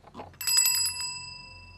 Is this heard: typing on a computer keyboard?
no